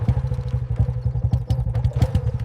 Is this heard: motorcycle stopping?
yes